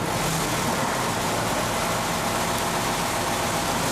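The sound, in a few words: Doosan engine running at idle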